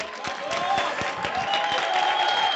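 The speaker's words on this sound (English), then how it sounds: "So please, a round of applause for them." Crowd applause at an 8th grade promotion ceremony, steady clapping from many hands with distinct nearby claps over a murmur of voices.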